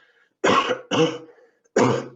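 Three sharp, harsh coughs close to the mic, two in quick succession and a third after a short pause, with near silence between them.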